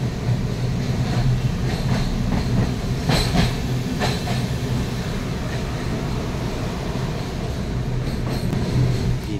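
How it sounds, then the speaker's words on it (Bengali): A train rumbles steadily past at night through open fields in Sikkim, with a low continuous roar and faint rhythmic clatter of wheels, fairly close throughout. "রাত্রেবেলা এই যে ট্রেন যায় মাঠের মধ্যে দিয়ে"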